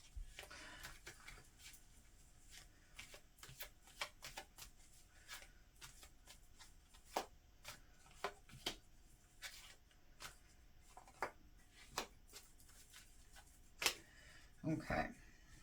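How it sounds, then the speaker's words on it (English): Tarot cards laid down one after another on a table, a quick series of soft, close slaps and flicks at irregular intervals, with a few louder taps near the end and a faint room hum beneath. "as I lay the cards down"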